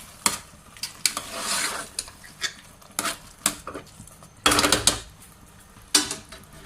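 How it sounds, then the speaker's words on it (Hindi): Carrot halwa with pistachios and almonds is stirred in a pan, giving scraping clatters of a spoon against metal, soft patter and a low sizzle in uneven bursts, close and fairly loud, with no voices. "इस टाइम पे हम इसमें डालेंगे पिस्ता और बादाम और इसको कर लेंगे अच्छे से मिक्स"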